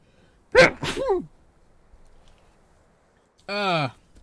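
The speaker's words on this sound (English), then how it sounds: "I'm gonna sneeze." A single loud sneeze bursts out in two quick sharp blasts, followed after a pause by a short vocal sound, indoors during a live-streamed World of Warcraft session.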